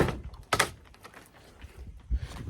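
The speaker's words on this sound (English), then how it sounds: "The door is so heavy." A heavy door swinging and shutting with a solid thunk, followed by a second low bump and faint rattles, close by in a quiet indoor space.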